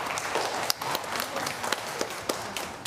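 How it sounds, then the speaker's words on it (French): Church congregation clapping after a Sunday homily, a modest, fairly distant round of applause with a few sharper individual claps standing out over a soft, steady patter. "Applaudissez-la."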